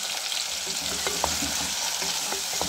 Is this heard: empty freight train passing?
no